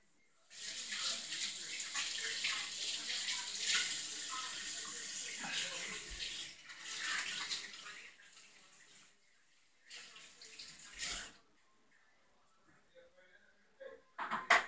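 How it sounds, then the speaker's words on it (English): Hands being washed under a running tap, a loud hiss of flowing water with splashing that stops and starts several times, then silence with a few knocks at the end. "So let me wash my hands and I'll be right back."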